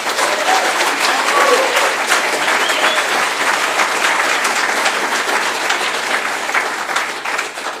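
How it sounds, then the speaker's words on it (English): Audience at a Humanity versus Insanity talk giving a big round of applause: loud, continuous, dense clapping from a large crowd, sustained and even throughout. "I think Ian Crane deserves a big round of applause"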